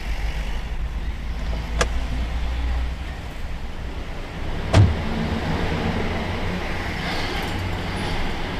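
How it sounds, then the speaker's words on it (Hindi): A car rolls up with a low, steady engine rumble and road noise, joined by two sharp clicks or thumps, in a drama scene with no speech. "मेरी गाड़ी आ गई है, मैं जा रहा हूँ।"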